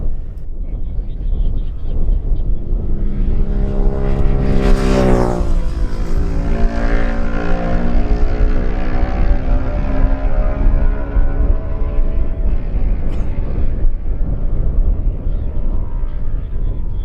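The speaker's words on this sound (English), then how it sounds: "then we hear and see John Bain's Suzuki" A Suzuki racing motorcycle, number 36, roars past during a lightweight road race, its engine note swelling loud and close, then falling in pitch as it speeds away into a fading drone.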